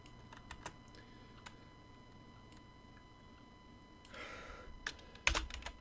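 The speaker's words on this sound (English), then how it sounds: "just going to change this to individual block positions" Typing code in Unity on a computer keyboard, a few scattered quiet key taps, then a short flurry of clicks and a louder clatter near the end, faint and close with no talking.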